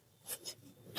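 Marker or chalk strokes on a classroom board while a letter M is written, a few short scratchy strokes close by with no talking.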